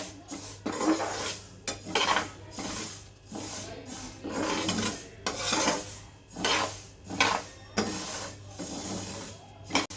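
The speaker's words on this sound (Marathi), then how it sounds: "तर इथे मी राई घेतली एक वाटी थोडीशी परतून घेते मी एक मिनिट परतून घेणार आहे मी राई" Mustard seeds being dry-roasted in a pan for raw mango pickle rasp and rattle as they are stirred and scraped across the metal. The scraping comes in repeated rhythmic sweeps, close and fairly loud, over a low steady hum.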